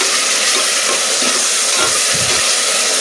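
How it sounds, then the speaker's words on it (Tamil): Onion, tomato and ginger-garlic paste sautéing in a pan for Chettinad mutton kulambu, giving a steady, loud hiss and sizzle with faint stirring scrapes throughout, no voices. "இப்போ இஞ்சி பூண்டு பேஸ்ட்டு சேர்த்துக்கலாம். நல்லா இஞ்சி பூண்டோட பச்சை வாசம் போகிற அளவுக்கு வதக்கிக்கலாம்."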